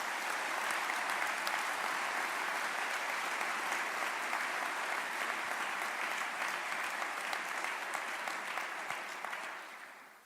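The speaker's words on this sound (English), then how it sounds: "If everyone would like to give them a huge round of applause." An audience at a Catholic education commencement ceremony applauds the graduates with sustained, dense clapping that holds steady for about ten seconds, then tapers off at the end.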